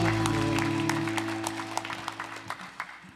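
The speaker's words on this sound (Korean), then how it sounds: "하나님께 영광의 박수 올리겠습니다" A church congregation applauds during Sunday worship as sustained organ or keyboard chords fade away; the scattered claps thin out over a few seconds.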